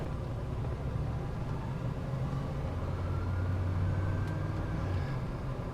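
Steady broadband blower rush from the cabin air conditioning fan running on high in a 1972 Lincoln Mark IV, a continuous moderate whoosh over a low hum, with no talking.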